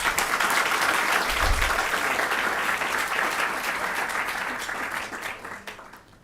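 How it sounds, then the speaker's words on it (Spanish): A large audience claps steadily and loudly, the applause holding for several seconds before tapering off at the end. "Con este aplauso, María Corina, te despedimos"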